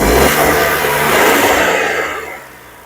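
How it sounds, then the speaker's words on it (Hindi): Skoda Kylaq turbo petrol engine revving close up, a strong rising rev that holds briefly and then falls away as the engine settles back toward idle. "इसके साथ ही हम इसके इंजन की आवाज़ सुनते हैं, देखते हैं कैसा साउंड करता है इसका टर्बो पेट्रोल इंजन"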